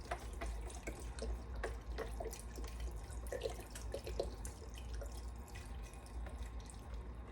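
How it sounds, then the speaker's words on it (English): Chicken stock from a 32-ounce container pours into a stock pot, a soft, continuous trickle and splash heard faintly at close range with no talk. "I'm going to add that into my stock pot"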